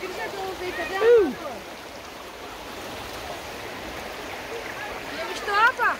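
Water runs over stones in a stream at the Clay Castle in the Valley of Fairies, a steady soft rushing that carries on throughout while people talk now and then over it.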